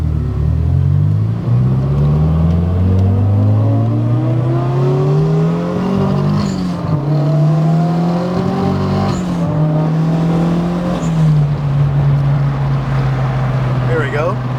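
A Porsche accelerating hard on a street, its engine note climbing steadily through the gears, loud and close, with a voice talking over the continuous roar.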